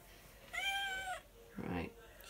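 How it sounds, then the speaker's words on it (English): A cat meows twice nearby, first a long drawn-out cry, then a shorter, lower one after a brief pause, in an otherwise quiet room. "That's why she's meowing"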